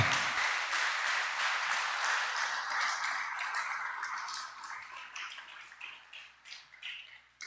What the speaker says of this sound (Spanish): ¿Cuántos pueden dar un aplauso al Señor Jesucristo?